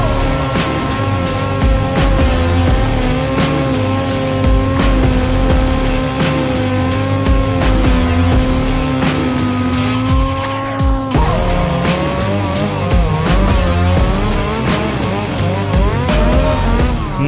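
A snowmobile's engine roars at full throttle as it charges up a snowy slope along packed tracks, a loud, sustained howl that shifts pitch sharply partway through.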